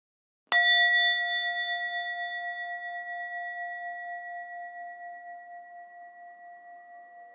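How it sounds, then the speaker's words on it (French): Tibetan singing bowl struck once, a clear sharp strike followed by a pure sustained ring with gentle wavering pulses that slowly fades over several seconds, alone and quiet. "La musique du bol tibétain. Il vibre encore."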